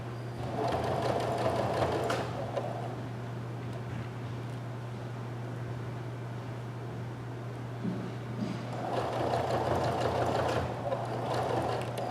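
A sewing machine runs edge-stitching along a sweatshirt pocket, with steady mechanical whirring throughout and a low constant hum, the motor rising in two louder bursts at the start and near the end.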